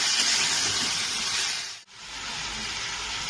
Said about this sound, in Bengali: আলুগুলোকে আমি দিয়ে দিলাম এবার এটাকে আমি একটু ভাজবো